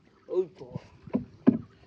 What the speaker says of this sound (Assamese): চা বৈঠা মাৰি আছে নাওটো যোৱাই নাই গুণজিত